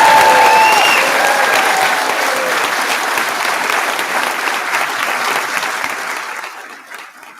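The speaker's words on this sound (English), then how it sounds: "Everyone, please do join me in applauding our brilliant class of" Audience at a graduation ceremony applauds the graduating class of 2025, loud sustained clapping with some crowd noise and a few whistles early on, tapering off over about seven seconds.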